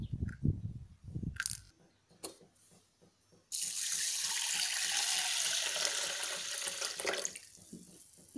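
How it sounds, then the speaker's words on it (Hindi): Water runs from a tap into a small mug holding about 25 grams of sago pearls, a steady close rushing pour lasting several seconds after a few soft handling knocks and taps. "इनको हम पानी में भिगो देंगे"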